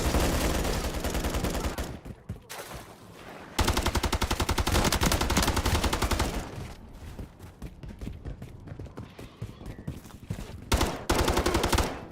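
Team deathmatch video game gunfire. Long, loud bursts of rapid automatic fire fill most of the clip, broken by brief pauses and scattered single shots. It sounds close and intense, with no voices.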